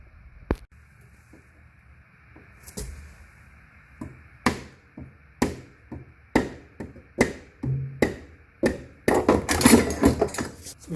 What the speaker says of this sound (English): I'm going to take a piece of wood, my rubber dowel, hammer from that side